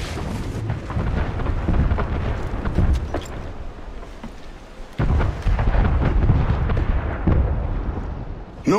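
Ship cannon fire in Assassin's Creed: Freedom Cry during a naval battle, with heavy booming blasts and rumbling volleys repeating over several seconds, loud and close, amid sea and battle noise.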